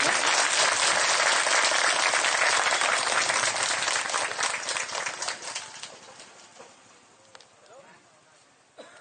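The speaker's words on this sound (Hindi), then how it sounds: "जोरदार ताली मारी स्वागत करूँ।" An audience applauds to welcome guests at a block-level Paenri Tihar event in Dungripali, loud sustained clapping that gradually thins and fades out toward the end.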